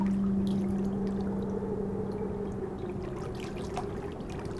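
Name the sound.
flowing water in a meditation soundscape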